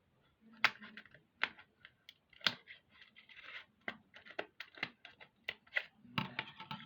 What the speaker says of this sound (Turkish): Şimdi onu, şu kısmını makasla yırtacağım.